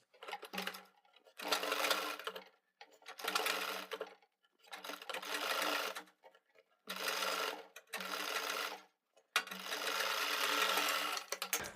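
A sewing machine stitching neck piping on a round-neck garment runs in six or seven steady whirring bursts separated by short pauses, close and clear.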